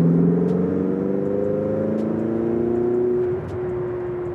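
Twin-turbo V8 of a Ferrari 488 GTB under a light throttle on a straight, humming steadily and rising gently in pitch, then easing off near the end; close, moderately loud engine with no talking.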